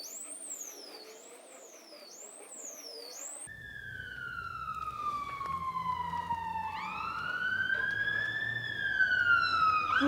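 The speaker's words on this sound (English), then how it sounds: "Oh, fire engine down our road." A fire engine siren passes along a residential road: first a rapid repeating wail, then a loud, long rising and falling wail that grows closer and stronger toward the end.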